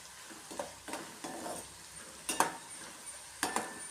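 Chopped okra (lady's finger) frying in a pan for kichadi. A soft, steady sizzle runs throughout, broken by several stirring scrapes and clinks of a utensil against the pan.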